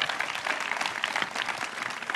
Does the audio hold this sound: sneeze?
no